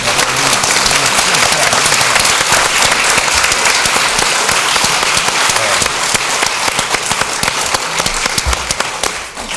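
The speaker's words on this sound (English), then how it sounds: "a big round of applause for them" Loud, dense applause fills a sheriff candidate forum from start to finish, a steady roar of many hands clapping with sharp individual claps standing out throughout.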